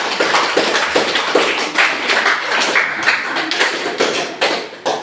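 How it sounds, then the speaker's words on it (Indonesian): A classroom group claps for a student presentation team, steady dense applause lasting several seconds with a few sharper hand slaps. "kita beri aplaus dulu untuk kelompok 4"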